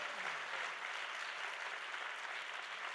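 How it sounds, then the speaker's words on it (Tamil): A large congregation claps loudly at an all-night revival prayer service, a dense, steady wash of applause holding at full strength throughout with no pauses. "Clap loudly."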